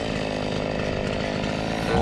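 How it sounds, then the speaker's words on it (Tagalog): A chainsaw cutting wooden posts drones steadily at close range, its engine buzzing without pause through the whole stretch. "Gamit natin yung chainsaw."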